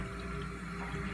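Water runs steadily through rinsed parts of a Dyson DC28 Animal vacuum, a constant close faucet-like flow with no voices.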